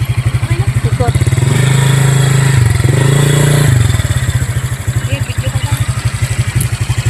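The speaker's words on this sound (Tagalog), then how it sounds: "Ikot lang natin yung motor mga kabanding." A motorcycle engine putters in a fast steady rhythm close by, revving briefly while the bike is turned around at a roadside viewpoint in Calatagan, Batangas, then settling back to idle.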